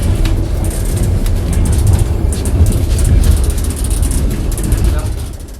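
Train of the Eurasia friendship express running along the rails, a steady broadband rumble with low rolling noise and rhythmic wheel clatter, loud and continuous throughout.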